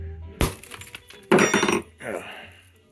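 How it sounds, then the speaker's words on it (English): A hammer strikes an old radio component, giving a sharp crack followed by a clattering, breaking burst and then a shorter rattle, close and loud. "come over here and crack it open with hammer here"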